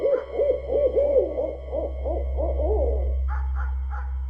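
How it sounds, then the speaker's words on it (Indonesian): An owl hoots in a rapid, repeated series at night, loud and close, over a steady low hum, with a few higher calls near the end. "Burung hantu pun berbunyi."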